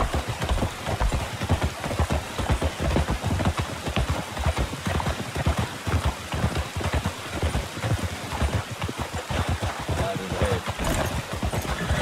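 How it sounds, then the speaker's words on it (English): Horse hooves clip-clopping at a steady, busy rhythm in a video game Western, several horses close together over a constant background hiss, with no talk. "If you hit my horse one more time with your horse"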